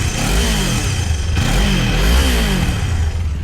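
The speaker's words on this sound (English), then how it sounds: "we're gonna start this bike, and this is the sound for the exhaust." Kawasaki Ninja sportbike with its stock exhaust, engine running loud and close with a steady rumble and a couple of rising revs in the middle.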